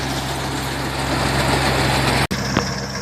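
A Yanmar CA215 combine harvester engine idling nearby, a steady low drone with a brief dropout and a small click near the end.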